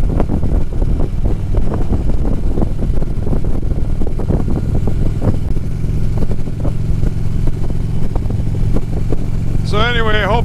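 Road Glide motorcycle being ridden, a steady loud engine drone under heavy, constant wind rush across the microphone, with a brief tonal whine near the end.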